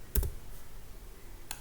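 Two quiet key presses on a computer keyboard, the Ctrl+S shortcut saving C code: a sharp click near the start and a fainter one near the end, with soft background hiss and no voices.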